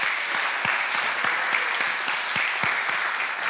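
A corporate talk audience applauds steadily after a football-themed business lecture, dense clapping with a few sharper claps standing out, sustained at an even level throughout.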